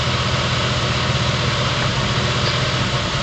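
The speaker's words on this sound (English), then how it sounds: "And every time the coil pack puts out that junk, my engine stumbles." A car engine idles roughly with a faulty ignition coil pack, a steady close drone that stumbles and misfires unevenly throughout.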